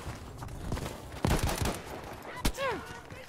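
A Lewis gun fires in Battlefield V on the Narvik map, sounding as scattered nearby shots and short bursts over general battle noise.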